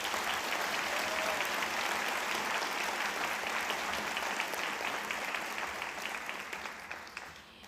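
A large graduation audience applauds students being honoured at a 2021 high school ceremony. The dense, steady clapping fills a big room and holds for several seconds before thinning and fading toward the end.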